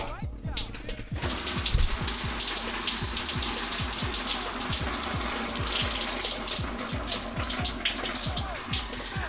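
Hot water tap running on a trailer during winterizing, with pink antifreeze flowing through the lines: a loud, steady gushing rush with a rapid rhythmic pump pulse underneath, heard close and continuous after a brief rustle at the start.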